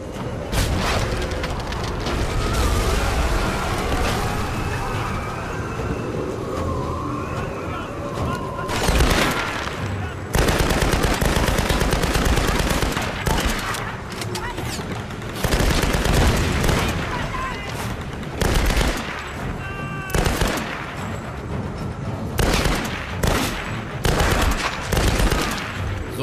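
Gunfire rattles through the video game Tomb Raider in loud bursts of automatic shots and heavier booms, with dense overlapping volleys and short gaps between them throughout.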